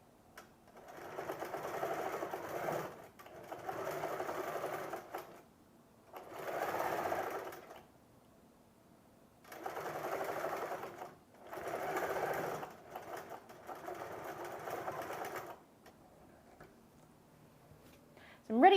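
Sewing machine stitching down a quilted pocket piece with stuffing inside, running in five steady bursts of a few seconds each with brief pauses between, close and clear.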